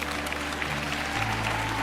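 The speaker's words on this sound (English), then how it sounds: "somebody ought to clap on that" Short applause from an audience at a motivational talk, steady clapping over a low hum, with faint talk underneath.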